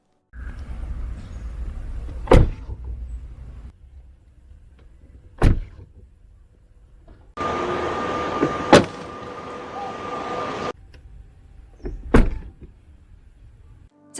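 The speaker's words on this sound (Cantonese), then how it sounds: "試下閂門聲先，本身 Model 3嘅閂門聲感覺係有啲脆" A Tesla Model 3 door is shut several times in a quiet setting, each close a sharp, distinct thunk with pauses between, alongside a stretch of whirring motor noise.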